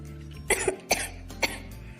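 A close run of three dry coughs from a child ill with suspected Covid, evenly spaced about half a second apart, against a quiet background hum, in a cartoon.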